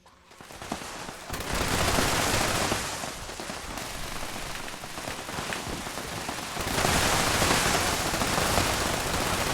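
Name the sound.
machine gun fire in video game Fallout 76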